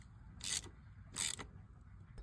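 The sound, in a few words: tightening the shift drum roller on a Yamaha YZ426 engine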